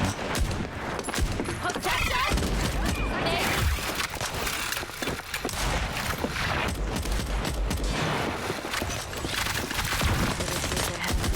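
Dense, continuous gunfire from the 5v5 hero shooter video game Fragpunk, with rapid bursts and impacts packed together at steady loudness throughout, a voice faintly audible underneath.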